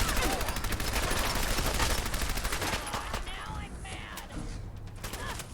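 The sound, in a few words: gunfire during a shootout in the video game Fallout 4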